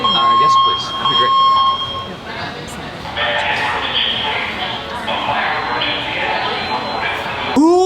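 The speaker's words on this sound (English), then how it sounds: "Who tests the fire alarm while you're operating a restaurant?" A shrill electronic fire alarm tone blares and pulses in a busy Italian restaurant at Disney Springs, with people talking underneath and chatter continuing around it.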